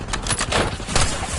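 Rapid bursts of gunfire from a shotgun in the video game Call of Duty Black Ops 6, dense overlapping blasts filling the whole stretch at close range with no talk.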